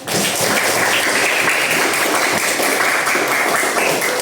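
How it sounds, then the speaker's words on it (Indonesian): A classroom of students claps for themselves at the end of a lesson, a loud, continuous burst of many hands clapping close by with no speech over it. "Tepuk tangan dulu dong untuk kalian."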